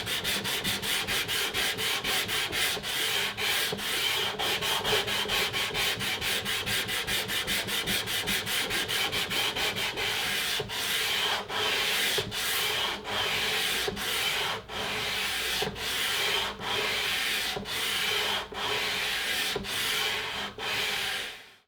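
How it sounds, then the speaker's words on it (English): Steady, close wooden rasping as the fingerboard of a Guild D35 acoustic guitar is sanded, with rapid regular strokes at first that slow into a more spaced back-and-forth rhythm, with no talking. "So I've tapered this fingerboard down and sanded it to 320 grit"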